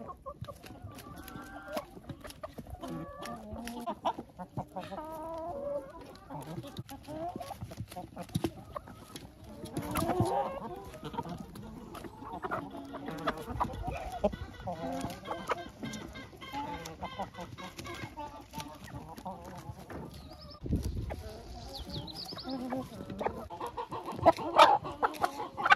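Backyard hens cluck repeatedly while pecking at vegetables such as beetroot, a busy flock sounding close and steady, with bursts of louder squawks and a rooster-like call near the end.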